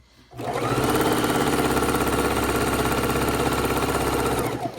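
A sewing machine stitches rows of a scrappy patchwork quilt, running loud and steady in one continuous burst after a brief start, with a fast even mechanical rhythm and no talk.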